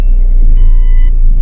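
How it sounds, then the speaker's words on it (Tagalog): Cars rolling by on a Bahrain street during lockdown make a continuous near rumble of engines and tyres, steady and loud with no voices. "Nandyan pa rin ang mga sasakyan."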